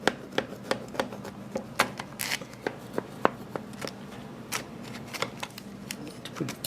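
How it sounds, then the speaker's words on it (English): A knife cuts a big slice of dense, firm organic chocolate cake, producing a series of sharp scraping and crunching strokes in an irregular rhythm, close and moderately loud. "let's cut off a big slice so we can see what it looks like"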